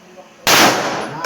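A gun fires at an outdoor shooting range: one sharp, loud shot cracks out and rings into a noisy tail, with a second burst trailing at the very end.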